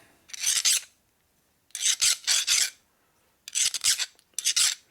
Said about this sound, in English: So now I'm going to take the file to the outside of the teeth.